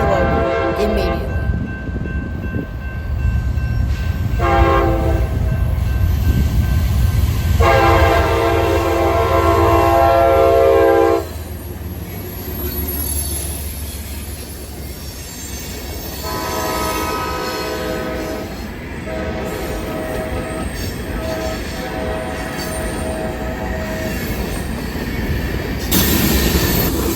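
A Norfolk Southern coal train passes close and loud in New Orleans, sounding several long horn blasts over the steady rumble of rolling wagons, with wheels squealing at times.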